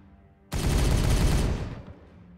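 A sudden, loud, dense burst of rapid automatic gunfire from the Warhammer 40K Regicide video game erupts out of near silence, roars for about a second, then cuts off into a fading tail.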